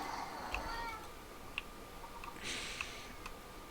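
A cat meows in a Minecraft game during a Christmas lucky-block round, a few faint mews spread out over steady background noise with light ticking clicks and no talking.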